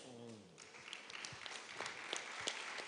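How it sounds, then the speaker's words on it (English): Audience applause for a panel of six at an innovation week event, steady clapping filling the room, with a brief voice tail at the start and scattered sharper claps through the rest. "a big round of applause to our panelists"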